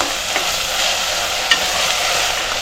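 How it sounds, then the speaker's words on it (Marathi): Onion and tomato softening in a hot pan, a steady hissing sizzle at close range with a couple of faint spatula taps, no talk. "कांदा असा थोडा नरम झाला की आता आपल्याला ह्याच्यात ना टोमॅटो टाकायचं आहे। आणि टोमॅटो पण आपल्याला असं चांगलं नरम करून घ्यायचं।"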